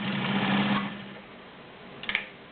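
A vintage heavy-duty Dressmaker sewing machine whirs in a short close burst, then drops to a faint hum with a few quick mechanical clicks near the end.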